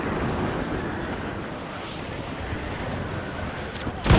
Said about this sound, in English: The wind is picking up nasty!